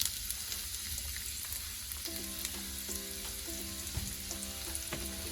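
Onions frying in hot oil with carom seeds, a steady broad sizzle that stays fairly quiet and continuous, with a few faint clinks and scrapes of stirring partway through.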